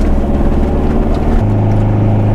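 A vehicle's engine drones loud and close while engine braking down a steep bush track near the Wonnangatta River, a steady low hum that drops to a lower pitch partway through.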